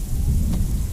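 Rain with a deep thunder rumble, a dense low roar over steady rainfall, loud and continuous for under a second, with no voices.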